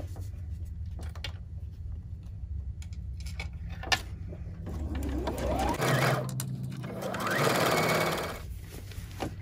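A sewing machine stitches the seam of a fraying knit infinity scarf with a hidden zipper pocket, running in two bursts of whirring, separated by quiet pauses of handling fabric.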